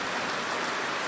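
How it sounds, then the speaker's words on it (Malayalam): Heavy rain pouring down during a thunderstorm in Neyyattinkara, Thiruvananthapuram, a dense, steady hiss of falling water with no gaps, loud and close. "നല്ല മഴ പെയ്യുന്നുണ്ട്"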